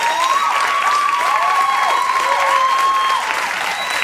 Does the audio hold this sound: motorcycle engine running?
no